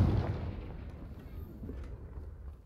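A Confringo blasting spell bursts in Hogwarts Legacy, opening with a loud, booming explosion that rolls off into a rumbling decay over a couple of seconds.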